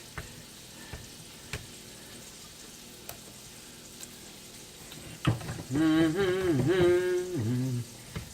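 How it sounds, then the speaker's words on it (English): A steak fries in a very hot cast iron pan with a faint, steady sizzle and scattered sharp crackles. Toward the end, a louder tonal stretch, likely a voice, rises over it. "It's going to fry up like crazy because the pan's very hot right now."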